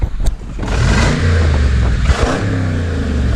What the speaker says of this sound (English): make some video of exhaust sound